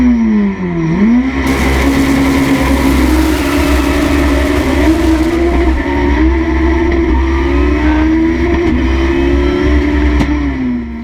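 A Mitsubishi Evo 8 tuned past 1,000 horsepower screams down a racetrack, its engine note sweeping up through the gears in loud, continuous revving with no talk.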